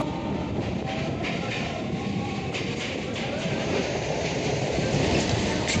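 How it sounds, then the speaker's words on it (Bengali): A suburban passenger train pulls out of Dum Dum Cantonment station and runs along the rails, a continuous loud rumble with rhythmic clattering wheel noise heard from on board. "তো আমাদের ট্রেন চলে এসছে, এই ট্রেনে করেই যাব আমরা"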